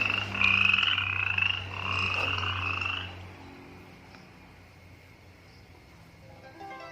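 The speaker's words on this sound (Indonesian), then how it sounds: "Ini suara kodok." A frog croaks loudly and close by in a few rapid, buzzing bursts, then goes quiet, leaving faint outdoor ambience.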